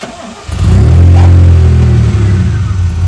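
A DeLorean DMC-12's engine cranks and catches after a brief quiet moment, then settles into a loud, deep, rumbling idle close by.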